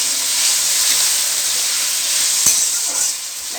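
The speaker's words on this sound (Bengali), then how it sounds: "দেখো আলুটা অর্ধেক ভাজা হোক" Salted potatoes sizzle steadily in a pan for a side dish of ridge gourd, potato and shrimp, a dense continuous hiss with one brief clatter midway and no voices.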